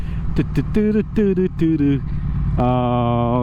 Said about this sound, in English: I love the sound of twins.